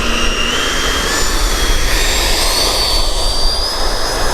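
A Freewing Eurofighter Typhoon 90mm RC jet roars with a loud, steady electric ducted-fan whine and rushing air, its pitch shifting slightly as it flies past.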